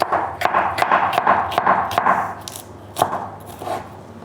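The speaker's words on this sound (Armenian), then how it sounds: "պղպեղ, սա ենք կտրատում" A knife chops a sweet orange-red bell pepper into large pieces on a board, a quick series of close, sharp knocks in an uneven rhythm, louder early on and then sparser, with no talking.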